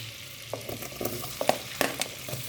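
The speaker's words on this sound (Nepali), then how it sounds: "प्याज हाल्छौँ अनि त्यसपछि एउटा लसुन हाल्छौँ र यसलाई हामी चलाउँछौँ एकछिन।" Onions fry in melted butter in a pan for butter chicken, giving a soft, continuous sizzle broken by scattered scraping stirs close by.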